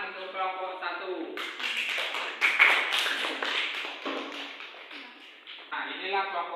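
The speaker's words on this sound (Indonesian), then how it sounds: "Tepuk tangan untuk kelompok 1." Students in a classroom clap for a student group, brief scattered claps heard under a teacher's voice, fairly faint and mixed with talk.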